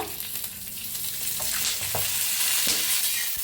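Red chilli thecha with garlic roasting in oil in a pan, a steady close sizzle with occasional scraping stirs and light clinks, no talking.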